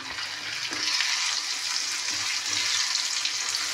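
Onion frying in a pan, a steady bright sizzle with soft crackles and occasional stirring, close and continuous.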